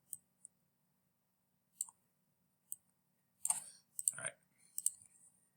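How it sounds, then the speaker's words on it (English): Scattered light keystrokes on a computer keyboard tap out a place name, sparse at first and then in quicker clusters, close and crisp, with a brief spoken remark mixed in. "so I'm going to type in Gettysburg, Pennsylvania."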